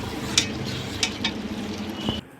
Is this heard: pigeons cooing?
no